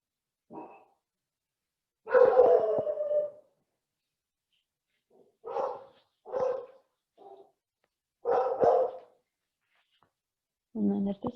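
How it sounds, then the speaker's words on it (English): A dog barking indoors in short separate bursts, some single barks and some doubled, mid-distance with silence between, during a quiet yoga session. "My dog's barking."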